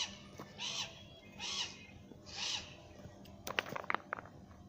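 Large owl in a bird park in the United Arab Emirates giving three evenly spaced hoarse calls, followed by a burst of sharp clicking sounds, fairly faint against a quiet background.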